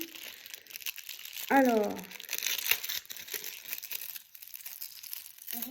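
Plastic packaging of a Guess iPhone 13 case crinkles and tears close by in bursts, with someone speaking briefly between the rustles.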